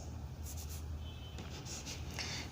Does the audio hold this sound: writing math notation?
yes